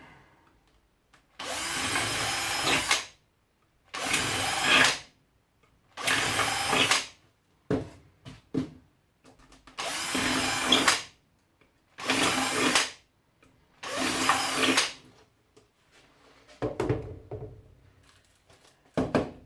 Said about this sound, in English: So let's get the drill to work.